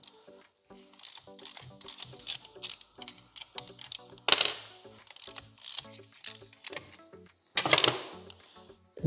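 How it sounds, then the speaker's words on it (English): Screws being removed with a T30 Torx driver from a BMW air suspension compressor, a close, quiet series of sharp clicks and ticks with brief louder scraping bursts, irregular and without talk. "Next step with T30 I will remove these two screws."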